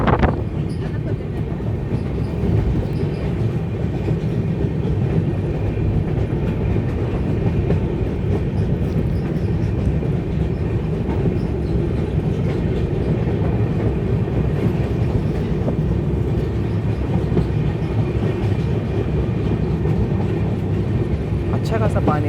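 The Narkher–Kacheguda Intercity Express, a diesel-hauled train, crosses the Godavari river bridge with a continuous loud rumble and rhythmic wheel clatter heard from on board, and someone speaks over the noise.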